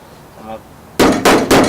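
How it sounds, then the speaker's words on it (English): A flathead body work hammer strikes the metal body of a 1969 Cadillac Eldorado under restoration, giving three loud, sharp metallic bangs in quick succession after a brief murmur of voice. "So what I gotta do is hit the use this hammer, flathead hammer, body hammer, I guess it's called, body work hammer."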